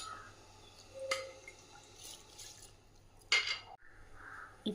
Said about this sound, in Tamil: இப்போ ரைஸை நம்ம அதில் போடலாம்.